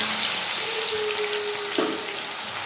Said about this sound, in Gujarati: તેલમાં ફ્રાય કરીશું. અને બ્રાઉન થવા દઈએ થોડી વાર.